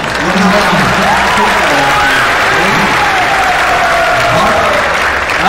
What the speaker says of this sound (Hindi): देखो भाई ताली बजाओ तो मन से बजाओ